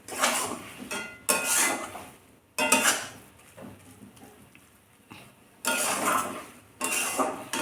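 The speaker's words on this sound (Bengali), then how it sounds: "আবার ভালো করে মিশিয়ে আমি ছোট এলাচ দিয়েছি।" Carrot halwa is stirred in a pan, with bursts of scraping and metal clinks from a utensil against the pan between quieter pauses, no talking.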